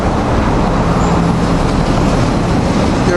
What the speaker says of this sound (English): About to depart here, set the train 9739 going to Trenton